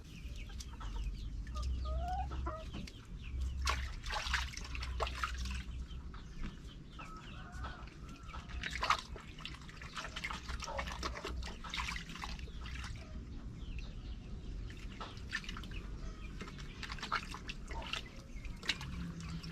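Dekalb Brown chickens cluck and squawk in a scattered, steady chorus near and far, with splashing water from a poured bucket mixed in and no talk.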